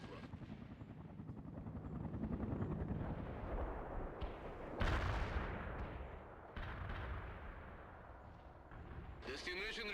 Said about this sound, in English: Mi-24 on the way. Flying to the destination.